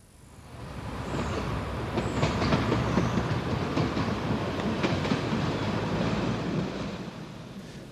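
London Underground train on the Hammersmith line near White City rolling past in a loud, sustained rumble with rhythmic clickety-clack of wheels over rail joints, swelling in then easing off toward the end.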